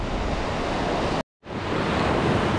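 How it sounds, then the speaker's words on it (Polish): Baltic Sea waves break on a sunny beach at Wicie on the Polish coast. The surf makes a loud, steady wash that cuts out for a split second and then resumes at full strength. "Ważne jest to, że jest morze, że jest słońce i że jest piękna fala."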